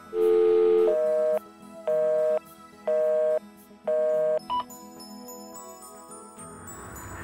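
Telephone call tones on a line being cut off: a long tone followed by four evenly spaced beeps at close range, then a brief blip and a higher tone sequence, with no talking.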